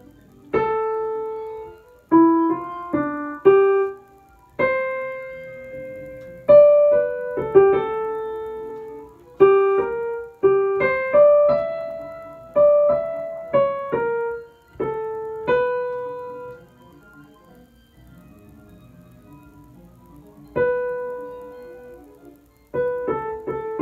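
A soft, lyrical piano melody in a lower register, with single notes and gentle chords unfolding slowly. There are brief pauses and no voices.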